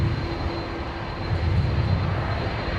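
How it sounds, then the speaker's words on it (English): Engines of a Qantas Airbus A330-200 jet at Brisbane Airport give a steady, broad low rumble that swells slightly midway, continuous and fairly loud with no voices. "Aircraft on screen is Qantas 533 going down to Sydney this afternoon. The A330-200."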